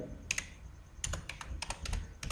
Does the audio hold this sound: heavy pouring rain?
no